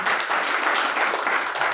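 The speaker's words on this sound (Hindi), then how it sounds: "एक बार जोरदार तालियां होनी चाहिए सर।" An audience at a business plan seminar breaks into loud, sustained clapping, a dense unbroken wash of many hands close by with no voices over it.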